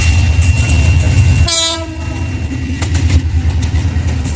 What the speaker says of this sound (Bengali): চারদিকে শুধু ট্রেনের ছুটে চলার শব্দ